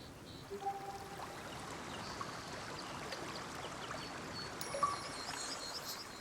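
The Dordogne River flows with a steady, even rush of water, moderately close and unbroken throughout, with faint higher tones and brief distant sounds drifting over it.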